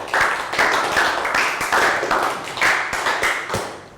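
A classroom of children gives a round of applause, a loud burst of irregular clapping that pulses for several seconds.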